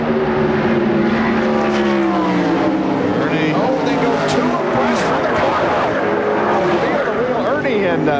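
NASCAR Winston Cup stock cars at Indianapolis Motor Speedway during the 1996 Brickyard 400 Happy Hour practice, several loud engines roaring and droning past together, with a commentator talking over the steady engine noise.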